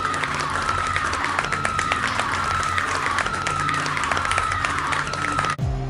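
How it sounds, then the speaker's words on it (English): A studio audience bursts into sustained applause mixed with cheers and scattered screams for Sindel, Queen of Edenia from Mortal Kombat, a steady dense wash of clapping that cuts off abruptly near the end. "Let's get a big round of applause and screams for Sindel"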